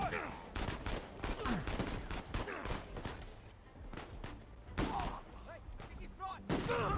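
Rapid bursts of gunfire from the video game Uncharted 4 fill most of the stretch, with scattered shots near and far and several overlapping volleys, a few lulls between them, and a voice talking underneath at times.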